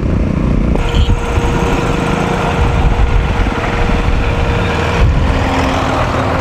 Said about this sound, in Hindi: ये रोलर चल रहा है यहाँ पे